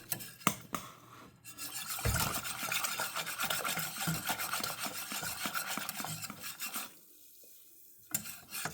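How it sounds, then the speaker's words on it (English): A spoon stirs gelatin in a bowl to dissolve it for Jello, a steady scraping, rasping swirl close up that runs for several seconds, then briefly goes quiet before resuming. "I'm just going to mix it. Mix my gelatin."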